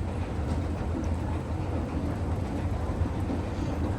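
Rare SJEC-IECO escalator running while being ridden, a steady low rumbling mechanical hum with constant loudness throughout, without talk.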